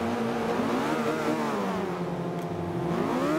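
A car engine revs continuously during a drag race launch in Forza Motorsport 5, its pitch sweeping up and down in smooth waves, loud and close, with a synthetic video-game quality.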